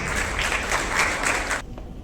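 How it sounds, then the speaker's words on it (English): A big round of audience applause at an international conclave at a university, a dense wash of clapping that cuts off abruptly after about a second and a half, leaving faint room noise. "May we please have another big round of applause."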